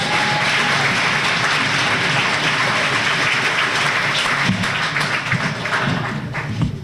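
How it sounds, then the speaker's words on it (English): Sustained applause from a crowd at a chamber of commerce award banquet, steady dense clapping throughout with a slight swell near the end, no talking over it. "Get a round of applause, folks."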